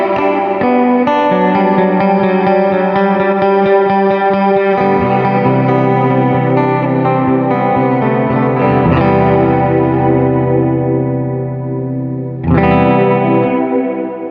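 An effects-laden electric guitar runs through a Walrus Audio Mako R1 reverb pedal on a big reverb setting, with chugging strums giving way to sustained chords that swell and wash out, then a fresh chord.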